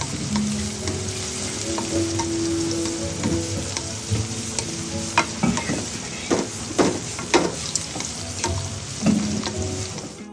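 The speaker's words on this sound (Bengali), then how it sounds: "সো প্রথমেই হচ্ছে গরম মশলাগুলো দিয়ে দিলাম, একটু ভেজে নেব।" Whole garam masala spices (cinnamon, cardamom, black pepper, bay leaf, black cardamom and star anise) sizzle steadily in hot oil, with crackles and scattered clinks of stirring throughout.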